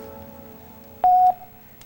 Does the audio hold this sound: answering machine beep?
yes